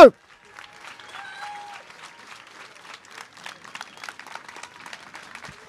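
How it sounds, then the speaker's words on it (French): Spectators at the finish of a 24-hour urban trail race clap for arriving runners, the applause faint and scattered at first, then growing into quicker, more rhythmic clapping with some voices after a brief loud onset. "Allez, applaudissements. Encore, encore, encore."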